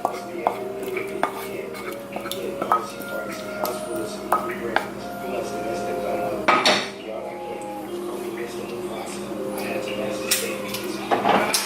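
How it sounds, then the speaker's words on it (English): Vegan mac and cheese of bow tie pasta and coconut cream sauce being stirred in a pot, with repeated scraping and clinking of a utensil against metal, irregular knocks and clatter, and a voice talking over parts of it. "just mix it up so all the bow tie pasta is coated"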